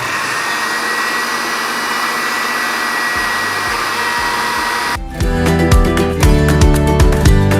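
An electric grinder blends spice paste for roast duck with a steady, loud, close whine that changes partway through to a harsher, rattling churn as the paste is ground smooth.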